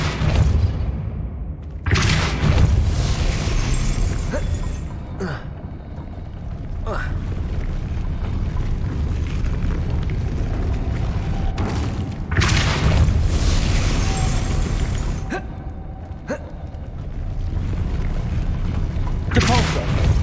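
Depulso spell effects in Hogwarts Legacy land as several heavy, booming blasts spaced a few seconds apart, loud and close over a continuous rumbling game background, with a voice speaking at times.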